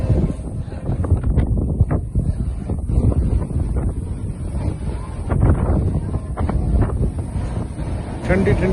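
Strong wind blowing at sea, buffeting the microphone with a loud, continuous low rumble that surges and eases throughout.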